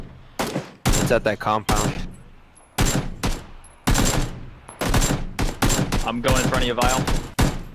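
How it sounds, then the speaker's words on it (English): Video game gunfire crackles in rapid bursts, with sharp volleys of shots cutting through close, steady talk from players. "Oh, they're getting shot at."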